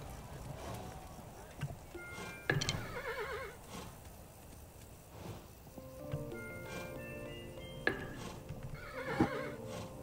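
A horse whinnies in the side-scrolling video game Kingdom, several neighs spread over about ten seconds with soft hoof clops and a musical score in the background.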